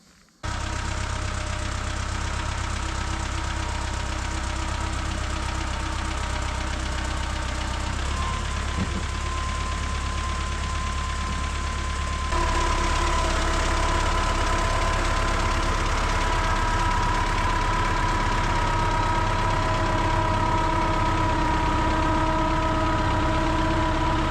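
A small vehicle engine labouring up a backyard hill, a steady loud drone with a clear tonal hum that rises and strengthens partway through as the load increases, with no voices.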